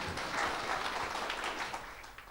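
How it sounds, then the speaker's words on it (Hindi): An audience at a New Year 2023 gathering breaks into dense continuous applause, a soft wash of many overlapping claps held steady throughout, somewhat distant and even. "एक बार हमारे लिए भी जोरदार तालियां बजा के बजाएं"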